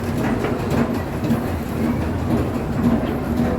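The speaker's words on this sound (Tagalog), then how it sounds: "MRT or subway." MRT subway train running in Kuala Lumpur, a loud steady rumble with rhythmic clickety-clack of wheels over rail joints and a faint hum, heard from inside the carriage.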